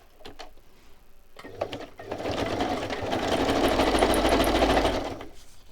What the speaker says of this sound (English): I'm just going to stitch these two pieces together.